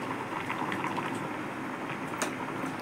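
Mango pieces simmer in water in a pot, a dense, low bubbling and gurgling that holds steady throughout at moderate loudness.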